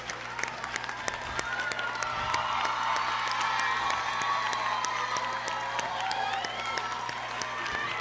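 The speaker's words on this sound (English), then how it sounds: "We applaud you at this time." Crowd at an adult education graduation ceremony applauding the graduates' supporters, continuous clapping mixed with cheers, whoops and shouts through an amplified hall, with some voices in the crowd.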